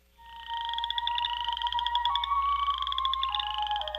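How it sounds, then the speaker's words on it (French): Spring peeper frogs, small Canadian tree frogs, call in a dense, continuous chorus of rapid high peeps and trills, close and loud with overlapping voices and no talk. "Les rainettes faux-grillons vivent au Canada, du Québec à la Colombie-Britannique et dans le Nord-Ouest."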